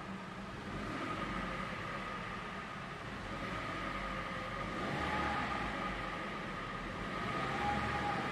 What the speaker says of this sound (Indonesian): Nah ini dia suara mesinnya.